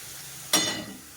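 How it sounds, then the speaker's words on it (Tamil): A little water is poured into hot cooking masala of tomato and spices, giving one sudden loud hiss at about half a second that fades over the next half second. "ஒரு கால் கிளாஸ் வந்து கொஞ்சமாக தண்ணி வந்து ஊற்றிக்கிறேன்"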